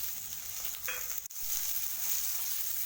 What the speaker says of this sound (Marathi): तेलात परतून घ्यायची तीन चार मिनटं भेंडी परतून घेतली त्यामध्ये टाकते